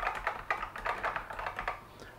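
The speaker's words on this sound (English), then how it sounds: "Now I can type." Fingers type on a vintage NABU computer keyboard, a quick, steady run of close, crisp key clicks heard alone.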